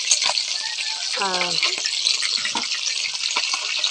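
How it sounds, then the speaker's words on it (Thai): Snakeskin gourami fish fry in hot oil with a constant loud, crackling sizzle, and a voice briefly sounds over it. "ทอดปลาสลิดเนาะ"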